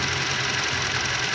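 Internal engine noise from a 2015 Toyota Fortuner being checked, a steady, close mechanical drone with a faint, rough pulsing at idle.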